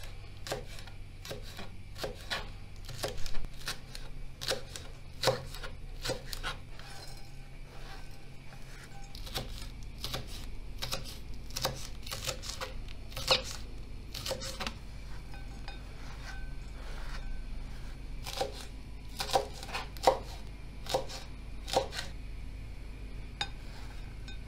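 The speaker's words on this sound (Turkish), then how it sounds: "Ben sarımsakları da şöyle elimde küçük küçük doğruyorum." Peeled garlic cloves are chopped by hand into small pieces: rapid, irregular sharp knife taps on a board, close by and continuing steadily with brief pauses.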